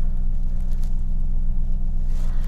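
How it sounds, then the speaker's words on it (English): A Lexus engine idling, with a throttle body that is not working, gives a steady, loud low rumble with no change in pitch, heard up close and without speech. "right now we have the engine idling"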